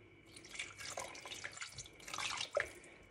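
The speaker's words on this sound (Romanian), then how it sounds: "Și o cănuță de apă." Water poured from a small cup into a cooking pot, a quiet splashing and trickling run lasting a few seconds with a short burst of drips near the end.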